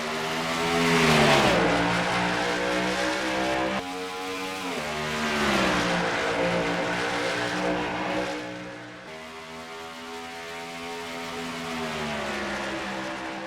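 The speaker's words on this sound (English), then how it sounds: "lead the field to the green flag to get race number 2 underway from here in Minnesota" Race trucks of the WRLA Menard's Truck Series accelerate together off the green flag start in Minnesota, loud layered engine drones rising and falling in pitch as the pack pulls past and away.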